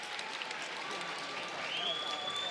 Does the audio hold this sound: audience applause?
yes